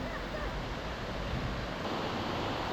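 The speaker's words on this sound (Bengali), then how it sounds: "জঙ্গলের মধ্যে দিয়ে পাহাড়ের ওপর থেকে জলের ধারা নেমে আসছে।" A mountain stream tumbles down a waterfall through forest near Nainital, making a steady, dense rushing roar that holds constant and close throughout, with no voices.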